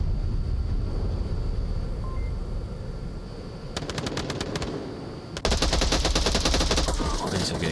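Gunfire in a competitive team shooter video game: a quiet stretch, then a burst of rapid automatic shots, then a dense, loud barrage near the end.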